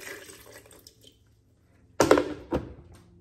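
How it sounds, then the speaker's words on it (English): Coconut water poured into a blender jar along with coconut meat for fruit juice, a short close splash of liquid after a near-silent pause, with a second brief splash half a second later. "And then we got coconut water. I'm just gonna pour that on the inside."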